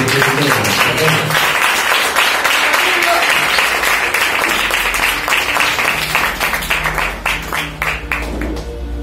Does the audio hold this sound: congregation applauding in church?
yes